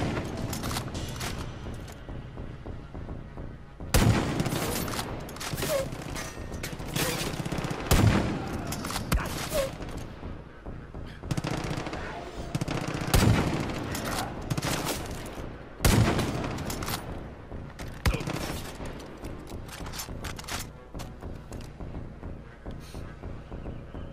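Repeated bursts of gunfire from a video game shooter, Far Cry 5, with sharp loud shots and rattling volleys recurring every few seconds over a steady background of ambient game sound.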